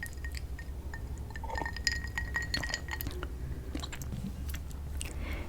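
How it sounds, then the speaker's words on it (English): Soft, close mouth sounds with wet clicks, smacks and light tongue taps scattered irregularly over a quiet background. "This is a mouth sound of sorts."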